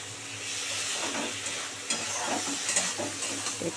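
Pointed gourd and shrimp sizzle in a hot pan while being stir-fried, a steady soft frying hiss broken by scraping and clattering spatula strokes that grow busier toward the end, close and without talking.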